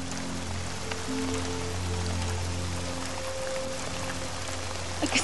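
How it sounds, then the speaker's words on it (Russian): Steady rain falling outdoors, a continuous even hiss of drops on surfaces with faint background hum, lasting throughout at moderate level without speech. "Может, укроемся от дождя?"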